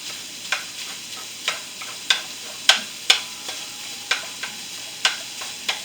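Italian sausage and ground beef frying in a skillet, a steady sizzle broken by regular clicking scrapes of a utensil stirring the meat roughly every half second, close and clear.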